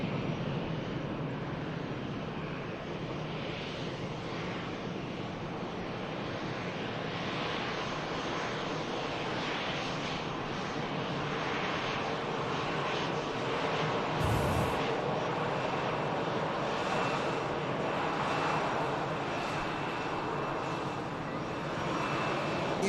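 Airliner engines roar steadily at Manchester Airport as a jet bound for Amsterdam runs, a broad, sustained distant rumble with a slight swell partway through; no talking.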